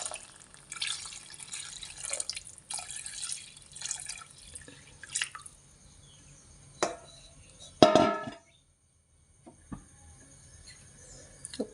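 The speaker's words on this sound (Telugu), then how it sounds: "సో మనం ఇప్పుడు దీంట్లో వాటర్ వేసుకోవాలి" Water poured into a pan of partly cooked mutton curry, a brief splashing pour around the middle standing out from quieter kitchen clatter and drips, followed by near silence.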